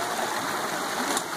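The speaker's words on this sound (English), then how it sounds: "here at the river and the forks where the Gila tip going" The Gila River at its forks rushes and burbles in a steady, broad wash of flowing water, close and continuous with no talking.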